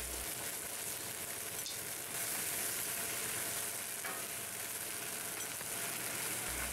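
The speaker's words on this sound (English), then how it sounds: "Simply add brandy to the pan and light it." Brandy flambéed in a pan for Steak Diane gives a steady, dense sizzle that holds at an even, moderate level from start to finish.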